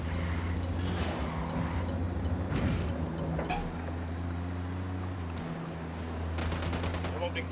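Gunfire in Ghost Recon Wildlands, rapid bursts of automatic weapon fire over a constant vehicle engine hum, with sharp cracks clustered near the middle and end, and brief voices mixed in.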